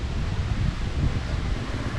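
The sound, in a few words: wind blowing outdoors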